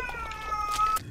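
A cat in the indie horror video game Erie gives a short, clear meow, a single drawn-out wavering cry rising above faint background ambience.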